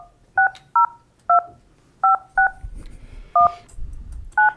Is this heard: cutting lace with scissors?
no